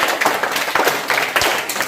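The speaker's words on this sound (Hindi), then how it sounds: "तालियां बजा दीजिए" Children clap together at a school readiness activity in a classroom, a dense, uneven burst of hand claps close by that keeps going for about two seconds.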